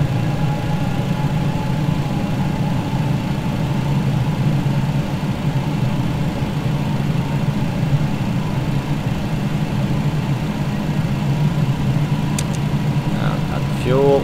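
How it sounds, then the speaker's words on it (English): Jet engine number 2 of a UPS MD-11F spooling up in the TFDI MD-11 flight simulator, a steady loud low roar and hum that fills the whole stretch, with faint rising tones near the end. "And starting engine number 2."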